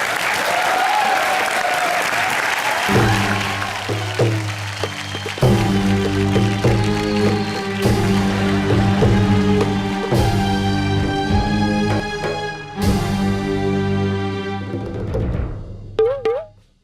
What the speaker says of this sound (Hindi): जोरदार तालियों के साथ स्वागत कीजिए नसीम और पूजा का।